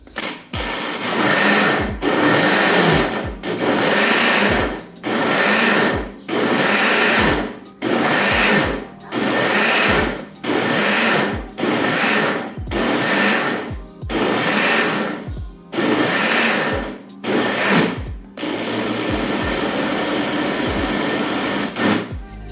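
A blender whirs loudly in short repeated pulses, roughly a dozen and a half bursts, before running continuously for a few seconds at the end.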